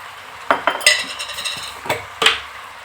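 Spoon scraping and clinking against a cooking pot while vegetables with turmeric, salt and coriander powder are stirred for an Indian curry; several sharp metallic knocks and scrapes, close and fairly loud, with no talking.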